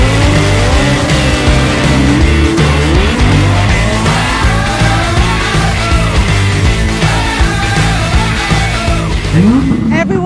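Supercars driving up the runway at an outdoor car show, loud and close, with engines roaring and revving, tires squealing in repeated sweeps and a busy crowd underneath throughout.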